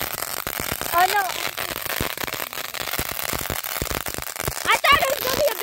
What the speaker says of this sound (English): I thought it was going to be a big firework. Oh, it's still going.